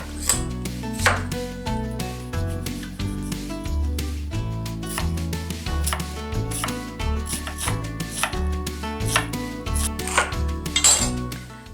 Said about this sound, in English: Let's cut our veggies.